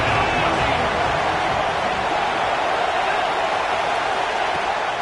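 A dense, steady roar from a stadium crowd in the Madden 26 football video game fills the space, loud and unbroken, with a commentator's voice talking over it.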